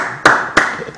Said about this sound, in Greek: δώστε μεγάλο χειροκρότημα